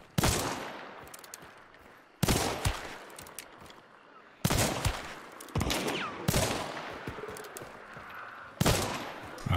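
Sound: rapid rifle gunfire in a video game

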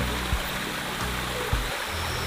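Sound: water draining

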